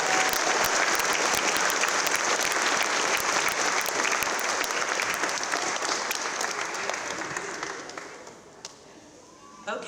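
Applause for doctoral graduates at a graduation recognition ceremony: a large crowd claps loudly and steadily, then tapers off near the end with a few last claps.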